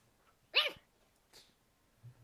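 A voice imitates a dying wild dog with a short, high yelp-like whine followed by two fainter, softer sounds in an otherwise quiet room.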